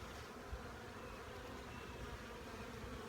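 Honey bees buzz at a hive during an inspection, a dense continuous hum heard faintly and steadily with no talking.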